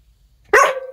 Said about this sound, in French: Quand je vous dis que c'est un chien de cirque que j'ai.